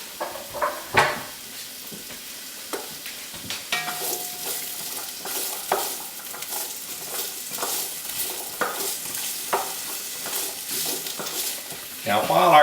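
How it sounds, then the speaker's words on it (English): Carrots sauté in a pan with a soft, continuous sizzle, broken by scraping stirs and clinks of a utensil against the pan. The sound is close and moderately loud throughout. "We're going to add them to our pan just to saute them a little bit."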